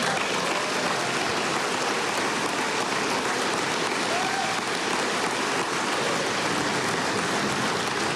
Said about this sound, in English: So absolutely, round of applause.